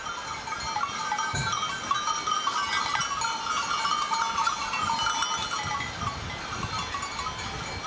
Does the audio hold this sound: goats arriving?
yes